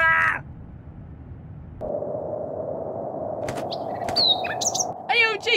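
Several short, sharp bird chirps and caw-like calls sound close, scattered over a low background hum, with a brief burst of noise at the start.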